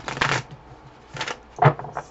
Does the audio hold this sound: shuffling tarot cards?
yes